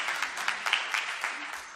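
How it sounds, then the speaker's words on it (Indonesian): A church congregation claps in praise, the scattered hand claps fairly faint and uneven, rising and falling in bursts over a soft background. "Yang percaya tepuk tangan yang meriah bagi Tuhan."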